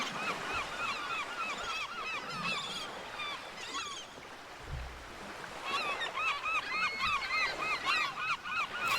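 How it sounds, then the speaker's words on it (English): Gulls in a shark video game call repeatedly over a steady wash of water, loud and close, with a brief low rumble midway. "Next level seagulls."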